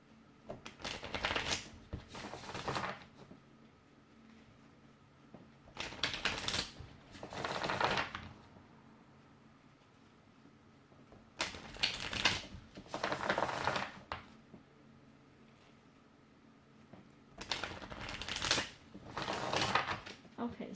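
Tarot cards are shuffled by hand in quick riffling bursts, four soft, close flurries spaced a few seconds apart over a quiet room background.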